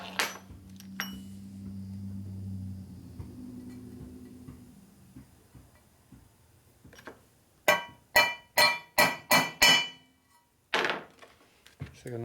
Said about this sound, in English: Take a nice smooth face hammer so it works pretty good for marring up the surface.